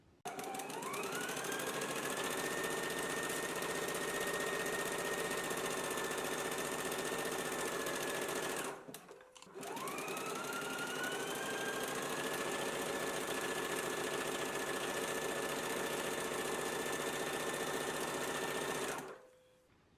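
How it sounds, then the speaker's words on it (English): Sewing machine stitching a dress lining along the neckline, running steadily in two long bursts with a short pause between, close and loud with a rising whir at each start. "Let's go ahead and stitch it in place now."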